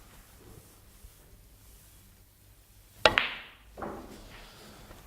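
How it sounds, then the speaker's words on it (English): On a snooker table, the cue ball skids into the red on a stun shot with one sharp crack, then a softer knock follows a moment later in an otherwise quiet room. "The white ball is going to skid along, and when it hits the red,"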